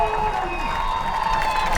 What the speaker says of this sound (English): you can hear that the Lakewood Ranch crowd is extremely excited about that play.